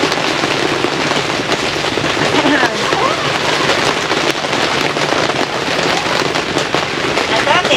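Steady rain pours down through a windy spring storm, a dense continuous hiss with scattered pattering impacts, close and loud throughout.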